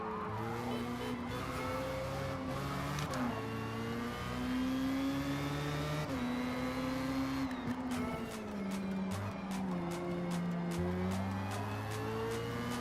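A Mazda Miata race car engine in the Forza video game drones steadily, pitch climbing and dropping through gear changes at constant loudness.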